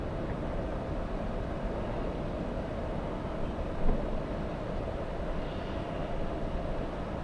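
A Lufthansa Boeing 747 airliner rumbles steadily at a distance like a passing train, a broad continuous low roar holding even throughout with a slight swell midway.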